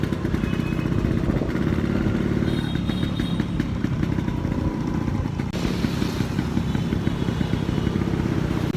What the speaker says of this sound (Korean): 지금 앞에 서머셋 앞에 오토바이가 도착했습니다. 오토바이가 엄청 클래식인데 진짜 예쁩니다.